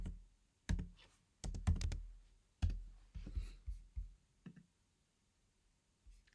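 Clicking keystrokes on a computer keyboard come in short bursts and single taps, close and fairly crisp, with brief pauses between groups and a quiet room behind.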